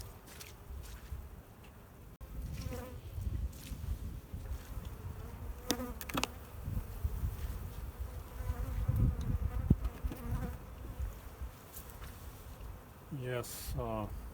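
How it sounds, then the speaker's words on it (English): Honeybees buzz steadily and close during a spring hive inspection, with occasional knocks and handling sounds from the frames, and a person talks quietly now and then. "And then we smoke the bees."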